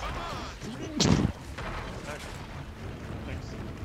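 A single heavy, booming shot from a Dropshot weapon in Gears of War 4 breaks through steady game noise, and a player talks underneath.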